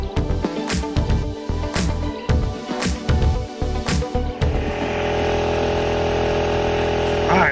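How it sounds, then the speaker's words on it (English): Air from a blower is forced through the drain line of a 16 by 32 pool being winterized, first in choppy sputtering surges, then settling into a steady, close drone. "Now I'm blowing the line out where the drain is"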